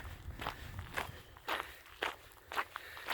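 Footsteps of someone walking outdoors around a house under renovation, about six distinct steps in an even rhythm, fairly close and moderately quiet.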